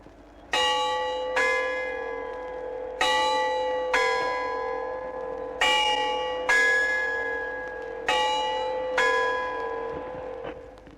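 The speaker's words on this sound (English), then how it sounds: "every quarter of an hour they strike the bells over the clock" Church bells struck by clock quarterjacks in Bristol ring out in a measured sequence of eight strikes, in pairs of two different pitches, each tone ringing on and decaying before the next.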